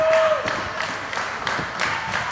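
A wrestling crowd claps in a steady, moderate wash of applause that rises and falls in a few rhythmic surges, with no clear voices over it.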